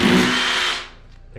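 A hammer drill switched to impact mode bores into cement inside a wall while a bathroom washbasin is being mounted, a loud close grinding whine that runs for most of a second before cutting off abruptly.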